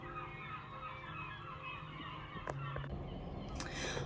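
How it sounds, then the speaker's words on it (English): Seagulls squawk and cry in short, scattered bursts over a low outdoor background hum, with a few louder, sharper calls near the end. "seagulls screaming"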